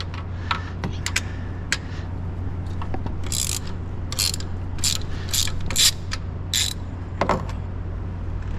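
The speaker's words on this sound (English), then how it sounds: "All right, got my spark plug tool." A spark plug ratchet tool clicks in quick bursts while removing plugs from a Ferrari F430 engine, the sharp ratcheting close and clear over a steady low hum.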